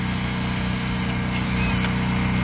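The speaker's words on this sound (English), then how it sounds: "right now we're drilling in beautiful paint" A loud, steady whirring drill grinding continuously into painted metal, with a constant motor drone and no pauses.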